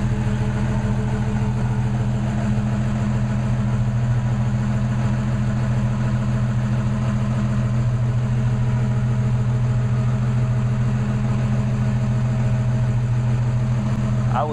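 Toyota FJ60 with a Flowmaster muffler idling nearby, a steady low rumbling exhaust drone with an even throb that holds unchanged throughout.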